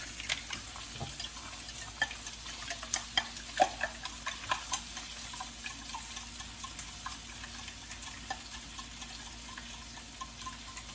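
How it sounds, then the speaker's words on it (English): Six eggs being whisked in a bowl, a quiet, quick rhythmic ticking and clicking of the whisk against the bowl, steady and close throughout. "just want to whisk them real good."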